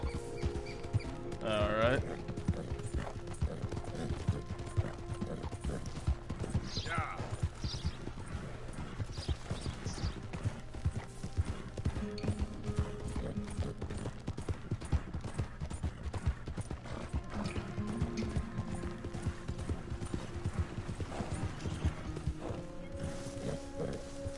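A horse's hooves clip-clop at an even walking rhythm in the Red Dead Redemption 2 video game, quiet and steady throughout, with a brief whinny near the start and someone talking over the hoofbeats.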